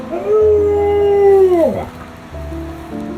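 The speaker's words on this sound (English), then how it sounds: "He would howl at night, which was pretty cool to see." A huge, heavy dog howls at night, one long loud sustained wail close by that bends downward at the end, followed by a second quieter howl starting, with no talking.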